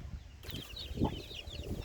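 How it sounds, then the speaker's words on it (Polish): Chickens and chicks in a coop give soft, close clucks and brief peeping calls, quiet and scattered over a low background. "No i jesteśmy u kurczaków."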